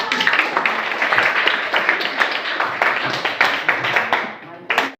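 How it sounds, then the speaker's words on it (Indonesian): Audience applause in a school classroom, dense irregular clapping from many hands that holds steady for several seconds, then cuts off, with a short final burst near the end. "kita beri aplaus kepada"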